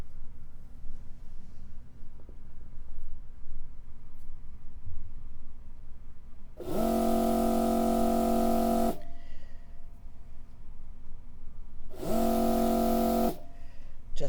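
A BERNINA L890 serger air-threading its upper looper, with two loud, steady mechanical hums of about two and one seconds, separated by a quiet pause, over a low room background.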